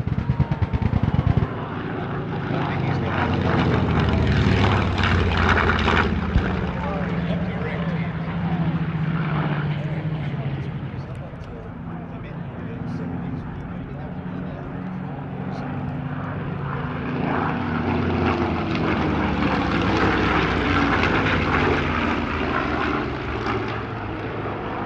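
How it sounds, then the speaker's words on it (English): Piston engines of an FW-190 and two Spitfires in a tail chase at the Wings over Illawarra airshow, droning roars swelling and fading as the fighters pass, with rising and falling engine pitch and a narrating voice over parts. "one of the highlights being a tail chase between an FW-190 and two Spitfires"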